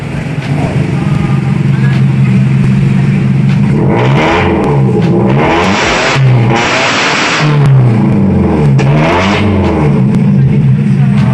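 Old school car, a silver-top liftback, with a cut-out exhaust revving loudly in repeated bursts over a steady idle, close by, with people talking in the background.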